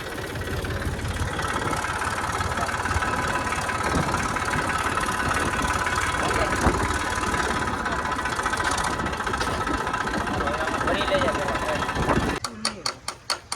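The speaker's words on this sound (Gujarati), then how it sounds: "એટલા માટે થઈને અહીંયા ટ્રેક્ટર લીધું છે આપણે" A tractor engine idles steadily on a village farm where sesame is being prepared for winnowing. The low, continuous rumble stays close and even throughout, then gives way to a few sharp bursts at the very end.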